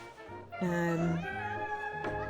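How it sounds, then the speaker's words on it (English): A cat meows once on a Paris street, a clear, drawn-out call that rises and then falls, rising above a steady background murmur. "that was a cat"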